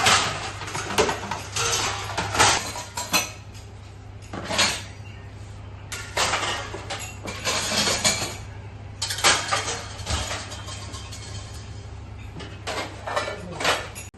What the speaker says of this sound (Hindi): तो मैंने बर्तन लगाने शुरू कर दिए हैं।